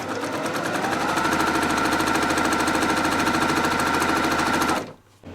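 A near-industrial embroidery machine stitching a Santa table runner, a loud rapid rhythmic needle chatter running steadily for about five seconds before it stops abruptly.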